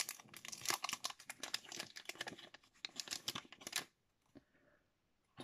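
Plastic wrapping from an AliExpress parcel of pastel-pink sticker images crinkles and tears in quick, close bursts for nearly four seconds, then drops to near silence with a few faint rustles.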